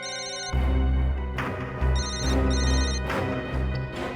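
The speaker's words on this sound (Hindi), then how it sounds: "रिंग यहीं पर बज रही है कहीं।" A mobile phone ringing nearby inside an old tomb, a repeating electronic ringtone melody playing in loud, regular bursts with short gaps and no talking.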